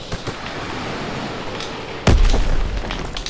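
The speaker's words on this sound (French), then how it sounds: "Fumigène envoyé!" A smoke grenade goes off in a war video game as one sudden deep boom partway through, followed by a lasting low rumble over steady background noise.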